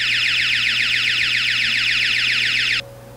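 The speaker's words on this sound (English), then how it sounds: "and that would trigger the alarm" An alarm set off during a test of a glass break detector blares a loud, fast, warbling electronic tone for nearly three seconds, then cuts off, leaving a faint low hum.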